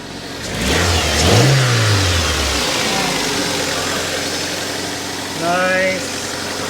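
An abandoned 46k-mile Toyota AW11 MR2 four-cylinder engine, just revived, revs up loudly near the start, then settles into a smooth, steady idle with a brief second rise, while people talk over it.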